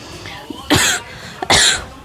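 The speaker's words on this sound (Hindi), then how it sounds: "मुझे खांसी आ गया" Two harsh coughs, close and loud, about a second apart, with a quiet pause between them.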